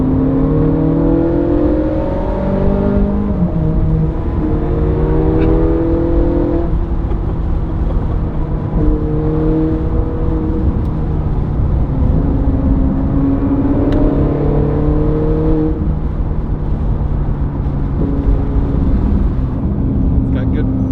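Ferrari F40 engine droning and revving steadily on a mountain road, loud and close with harmonic engine tones rising and falling throughout, voices talking over it.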